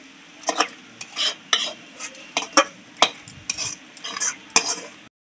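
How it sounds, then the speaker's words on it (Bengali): Cooked rice, lentils and potato khichuri poured and stirred into a metal bowl, with a run of close, distinct scraping and clanking strokes in an uneven rhythm and a soft sizzle underneath, no voices. "এর মধ্যে আমি সব ঢেলে দিচ্ছি।"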